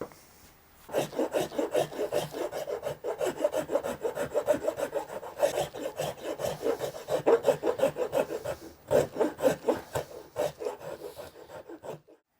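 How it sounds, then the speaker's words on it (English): Hand tool rasping and filing into the wooden cutaway of a guitar body during relief carving, a steady run of close, rhythmic scraping strokes for about twelve seconds with brief pauses. "We're going to relief carve"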